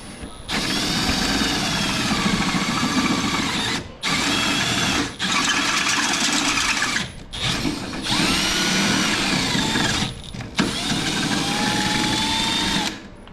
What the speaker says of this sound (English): We have to drill out this bolt.